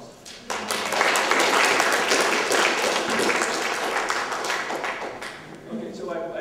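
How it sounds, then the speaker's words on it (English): Audience applause at a talk on veterans and permanent housing, a moderate patter of many hands heard from a slight distance, swelling after a brief pause and tapering off near the end. "applause."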